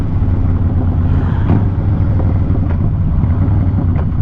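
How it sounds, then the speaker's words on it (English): A 2008 Harley-Davidson Crossbones motorcycle engine revs in a lower gear at high RPM on a freshly chip-sealed road, a loud steady rumble with wind buffeting and a few brief surges, no talking. "Lower gear, higher RPM"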